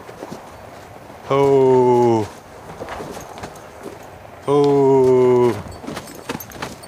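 A stressed horse moves restlessly and bangs about inside a shelter, with scattered knocks and hoof thuds throughout, while a man twice calls out loudly and briefly over the commotion.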